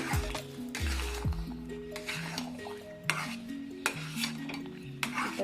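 Thick Bombay Karachi halwa mixture stirred in a pan, a spoon or spatula scraping and clinking against metal in a steady rhythm with a soft sizzle underneath, close and continuous.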